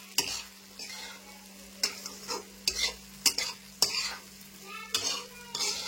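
Sabudana khichdi is stirred in a sizzling pan, a spoon scraping the pan in repeated close, sharp strokes about every half second over a steady frying hiss.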